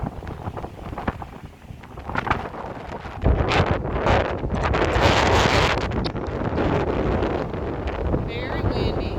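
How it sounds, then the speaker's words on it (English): Strong wind buffets the microphone throughout, a loud rumbling roar that surges and gusts, at a lakeside overlook above a dam in the North Cascades where boats are being launched below. "Very windy."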